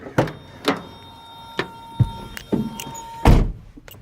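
Car door of a Mazda B2000/B2200 pickup opening, a series of clunks, latch clicks and a heavy thunk near the end, close and fairly loud with a faint squeak.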